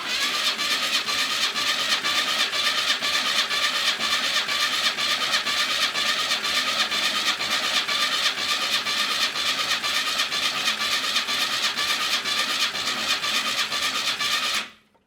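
Cranking a 1982 Pontiac Firebird engine left sitting for 25 years during a compression test, a steady rhythmic starter churn held for about fifteen seconds and then cut off abruptly.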